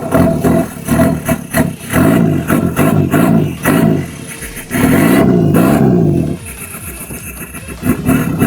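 Car engine of a Felt MK4 build with new kit, starting on a second attempt and then running, a loud close rumbling idle with surging revs and uneven pulses, no voices over it.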